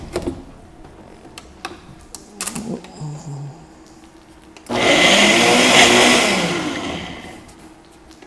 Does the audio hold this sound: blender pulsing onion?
yes